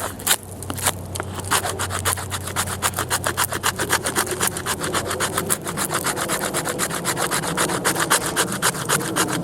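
The spine of a Mora Craftline Pro Robust knife scrapes repeatedly along wood in quick, even strokes, a dry rasping rhythm that stays loud and close throughout.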